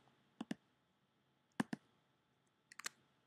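Small clusters of keyboard clicks, two or three keystrokes at a time with pauses between, close and crisp in a quiet room.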